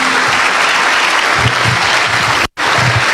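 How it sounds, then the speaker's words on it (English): Steady, dense applause from a large audience at an indoor business forum, sustained and loud, with a brief cut near the end before the clapping resumes. "Let's give another round of applause to our chief guests."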